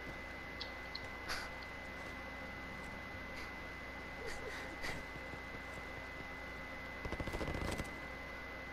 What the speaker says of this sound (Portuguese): Tô vendo os barulhos do tiro